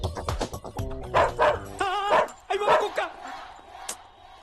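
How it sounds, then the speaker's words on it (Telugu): A dog barks and yips several times nearby, its sharp calls mixed with voices talking over it. "కుక్కుంది అక్కడ."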